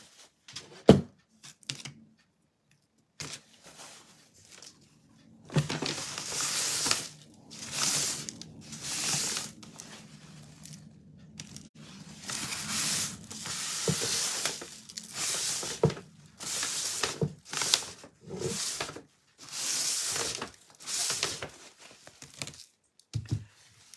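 A paper towel wipes up a mess of diamond dust made of ground glass, giving scattered bursts of crinkly rustling and scraping separated by quiet pauses, close and intermittent.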